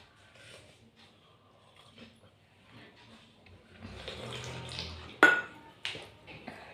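Household pots and dishes being scrubbed and rinsed under running water in a home kitchen: a low wash of water with soft clinks, then a sharp, loud clatter of utensils near the end.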